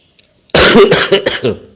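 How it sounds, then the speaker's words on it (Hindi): One loud, close cough after a moment of near silence, a harsh burst that trails off raspily. "खांसने का मन कर गया"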